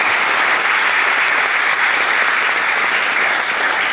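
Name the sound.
audience applause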